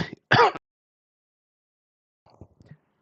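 A short, sharp cough from a livestream host breaking baseball card packs, heard as one or two loud bursts near the start, followed by quieter throat noises and silence.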